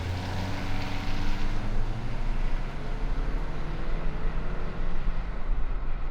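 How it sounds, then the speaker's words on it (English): A 2024 Toyota Land Cruiser pulls hard at full throttle while towing a Mammoth Overland Tall Boy trailer, its engine droning steadily with rising harmonics beneath continuous road and wind roar, loud and unbroken throughout. "I'm going to put the throttle down and see how fast we go"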